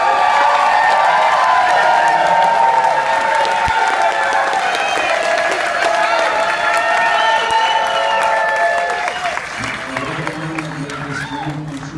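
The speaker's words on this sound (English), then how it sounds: "I'd like to give a special loving applause around to my beautiful wife, Lori." A wedding crowd applauds loudly with cheering and whoops mixed in, then the clapping thins out and voices murmur toward the end.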